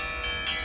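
Federation Bells in Melbourne, a brief sustained metallic ringing with layered bell tones, steady and moderately loud.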